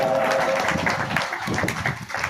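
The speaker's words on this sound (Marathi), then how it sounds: "एकदा पूतना करता जोरात टाळ्या वाजवा." Audience clapping and cheering at a Bhagavat Katha religious discourse tableau, a short dense burst of applause with some crowd voices mixed in.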